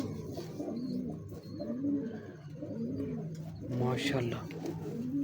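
A pair of breeding pigeons, including a Ferozpuri hen, gives repeated deep, rolling coos close by, the calls rising and falling in steady cycles with someone talking over them.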